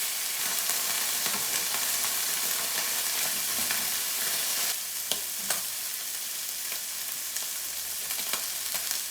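Pork sizzles hard in a smoking-hot pan on high heat for miso carbonara, a steady dense frying hiss with crackling pops and a few sharper spatters, close and loud with no talk.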